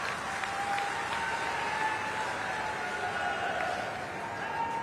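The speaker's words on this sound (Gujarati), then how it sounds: "એમના માટે જબરજસ્ત તાળીઓથી એમનું સ્વાગત કરીએ" A crowd applauds at a public event welcoming Gujarat's Chief Minister, a steady wash of many hands clapping at moderate distance, even and continuous with a faint tonal hum underneath and no clear speech.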